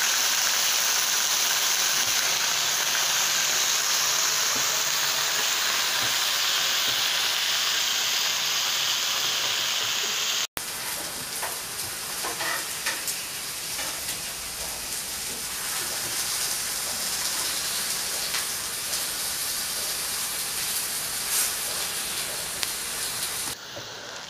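Potato and eggplant slices frying in butter in a pan, a steady dense sizzle and hiss running throughout, loud and close, with a brief break partway before the crackling resumes.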